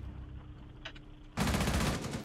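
Gunfire in Rainbow Six Siege erupts as a loud, sustained burst of rapid shots that starts partway through and continues to the end, after a quieter stretch with a few faint clicks.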